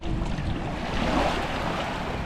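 Pacific Ocean surf breaking on a Hawaiian beach, a steady broad wash of waves mixed with wind buffeting the microphone, with no voices.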